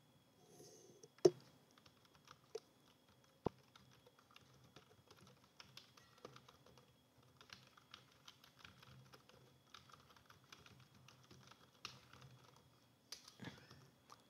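Quiet computer keyboard typing as a file name is entered, bursts of soft rapid key clicks with pauses and a few sharper single taps, faint and close with no talking.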